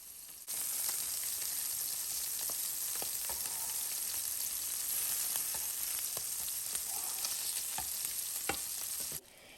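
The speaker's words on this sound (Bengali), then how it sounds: "আর এই ফাঁকে আমি মাছটাও ভেজে নিচ্ছি" Small puti fish fry lightly in a pan with oil, a steady soft sizzle with scattered crackles and pops, close but moderate in level, running unbroken before cutting off, with no talking.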